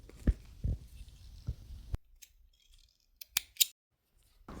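Scissors snip through leftover stitches on pajama pants: several sharp, close snips and clicks, a few early ones spaced apart, then a pair of crisp cuts near the end amid quiet handling.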